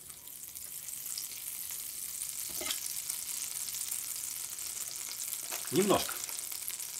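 Vegetable oil and butter sizzle in a pan with a steady, bright hiss, broken by a couple of sharp utensil clinks near the end; a brief word is spoken.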